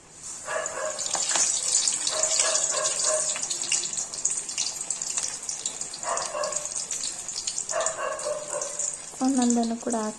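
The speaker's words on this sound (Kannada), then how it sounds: "ನಾನು ಇವಾಗ ಒಂದು ಆರು ಬಜ್ಜಿನ ಹಾಕ್ಕೊಂಡಿದ್ದೀನಿ ಬಾಣಲೆಗೆ" Spinach leaf bajji fritters fry in hot oil in a pan, giving a continuous bright sizzle that crackles throughout. Someone talks intermittently over the frying.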